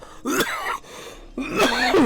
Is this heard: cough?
yes